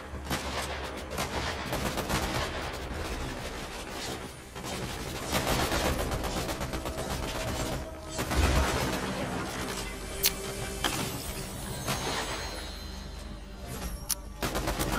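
Dense, continuous gunfire from the video game Fortnite, with rapid bursts and sharp single shots stacking over each other at close range, loud throughout with scattered crashes.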